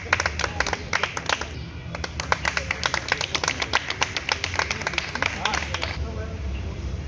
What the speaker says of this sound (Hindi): जोरदार तालियां तालियां।